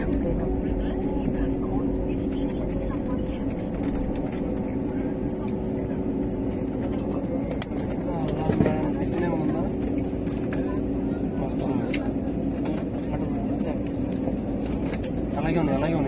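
An airplane lands on a runway with a loud, steady roar that continues without a break. Voices can be heard faintly under the noise.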